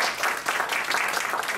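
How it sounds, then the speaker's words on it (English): Brief burst of audience applause for a panel at a Fulbright student workshop, many hands clapping in a dense, fairly even patter with slight pulsing, moderately loud and without talk. "Why don't we give a round of applause?"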